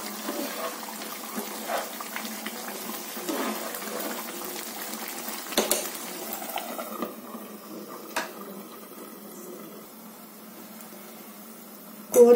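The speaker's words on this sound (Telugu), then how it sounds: "కూర ఉడుకుతుంది." Tamarind and raw prawn curry simmering in a pot, a steady low bubbling and hiss that runs throughout at moderate level, with a few faint clinks along the way and a sharp knock right at the end.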